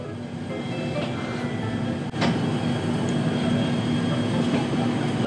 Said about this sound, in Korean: 그리고 이렇게 문을 열고 달립니다.